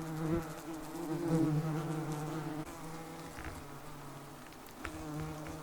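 Yellow jacket wasps buzz around a removed nest, a close, steady droning hum with several overlapping insects that rises and fades as individuals move near, no voices.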